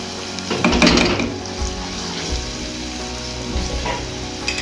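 Ginger garlic paste dropped into onions frying in oil, set off by a sharp burst of sizzling and spattering. The crackle then settles into a steady, close frying hiss, with a few clinks of a utensil against the pan.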